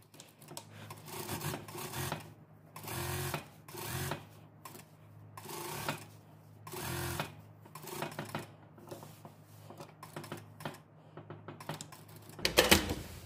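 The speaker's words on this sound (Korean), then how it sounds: "자, 스티치 놓습니다." A sewing machine stitches topstitching in grey thread on a denim dress, a 0.5 stitch run along the inside, coming as a series of short, close mechanical bursts separated by brief pauses.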